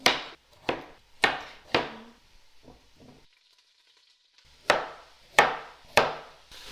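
A knife cuts vegetables on a board into oblong pieces. Sharp, distinct chops land in a quick run of four, then softer taps and a pause, then three more firm cuts, close and clear with no talking.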